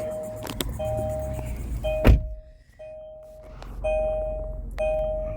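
A 2017 Kia Soul starts up with a brief starter crank followed by repeated electronic chimes over a low idle, heard close and fairly clear with no talk.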